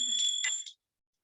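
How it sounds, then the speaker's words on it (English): A puja bell rung during arati at a Navaratri home worship, giving bright ringing strikes with a sustained metallic tone for under a second before cutting off, with no talk over it. "We'll ring the bell."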